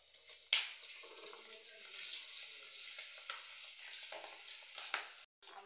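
Papad (poppadom) fries in hot oil with a steady, close sizzle, a sharp pop near the start and scattered crackles throughout, with a brief drop-out near the end.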